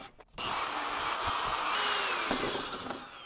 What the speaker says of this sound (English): I went ahead and moved to a 1/4 inch. See if we can get the screw the rest of the way out.